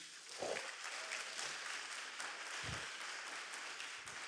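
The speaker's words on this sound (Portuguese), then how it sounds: "aplauda o Senhor Jesus" A church congregation claps together in sustained applause, a dense even wash of many hands filling the room, with a few low thumps and faint voices underneath.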